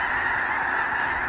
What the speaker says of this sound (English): The main qualifying species at Bellshill are snow geese.